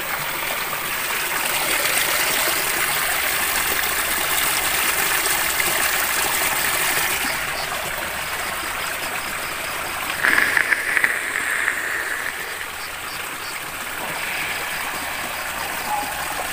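Water flows and pours strongly in a continuous rushing stream, loud and close, with a brief burst of splashing partway through and no talk over it.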